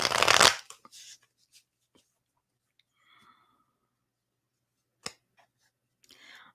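A deck of tarot cards is shuffled in one loud, quick riffling burst at the start, followed by a few soft card taps and flicks in an otherwise quiet room.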